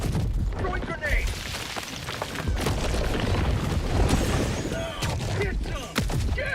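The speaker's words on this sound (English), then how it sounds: "Throwing grenade." A grenade explodes in Helldivers 2 amid heavy booms and bursts of gunfire, chaotic and loud, with voices talking over the battle.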